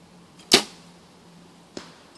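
An arrow loosed from a Bowtech compound bow at a beer bottle 90 yards away: a sharp snap of release followed about a second later by a faint distant impact tick, with quiet air between.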